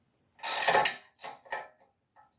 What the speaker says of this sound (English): I've got a spanner that fits it, which is good, ratchet spanner. So let's try and pull this in.